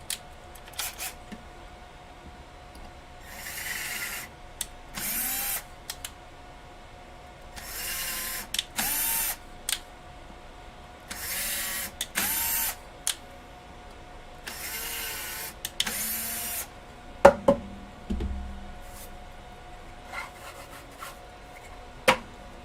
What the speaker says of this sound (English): I got a tap on here. I'm cleaning the threads out.